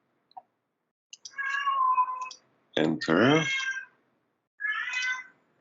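A house cat meows at close range: three drawn-out, wavering meows with short pauses between them. A single brief spoken word comes near the start.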